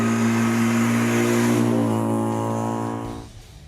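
A Mazda MX-5 fitted with a prototype 120 hp one-stroke engine drives past, its loud steady engine note holding and then falling away near the end.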